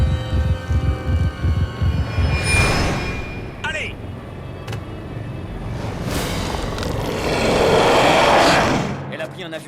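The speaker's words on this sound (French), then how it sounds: "Un avion d'une compagnie canadienne." Airplane of a Canadian airline roaring past with a broad, swelling engine rumble and whoosh that fades and returns louder toward the end, partly under speech and film sound effects.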